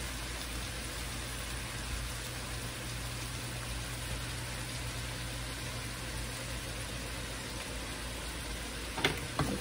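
Garlic shrimps sizzle in a hot pan, a steady, even crackle of frying held at moderate volume throughout, with a brief scrape or clatter near the very end.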